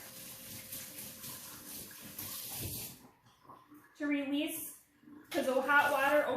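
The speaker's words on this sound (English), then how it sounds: "I come to the sink, run it under hot water, just rub it together." Cloth rubbed and rinsed under a hot tap at a sink, with running water hissing in bursts and stopping in between, close and fairly quiet, plus brief wet splashy rubbing, with a person talking over parts of it.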